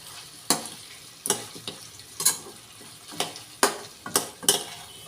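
Pepper chicken stirred and frying in a pan, with a steady low sizzle broken by about seven sharp scrapes and clatters of a utensil against the pan at irregular intervals, close by, no talking.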